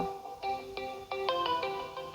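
A phone ringtone plays a short repeating electronic melody of bright, clean tones in several quick bursts, faint and alone, with no voices over it.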